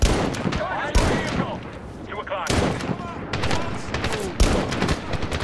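Rifle fire and a dense fusillade of gunshots from the Medal of Honor video game hammer away in rapid bursts with loud booms, while voices speak over the battle.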